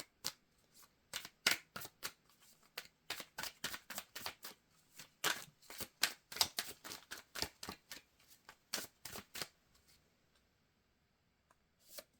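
Mystic Forest Oracle card deck being shuffled, a quick run of crisp riffling slaps and flicks, close and fairly quiet, pausing near the end, with no talking.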